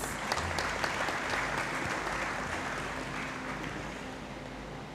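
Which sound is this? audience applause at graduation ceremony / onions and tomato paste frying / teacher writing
audience applause at graduation ceremony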